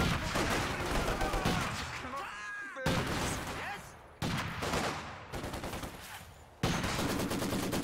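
Machine gun fire in the Company of Heroes 2 video game comes as dense, loud bursts and fusillades with abrupt cuts between them, and battlefield effects underneath.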